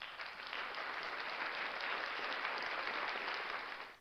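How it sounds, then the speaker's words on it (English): Applause from an audience, a steady, dense wash of many hands clapping that holds evenly for several seconds before tapering off at the end. "I want to give those ladies a special round of applause"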